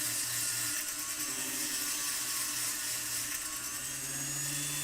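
A power tool fitted with a coarse sanding disc whirs steadily and loudly for the whole stretch, a high grinding hiss over a low motor hum with no talking.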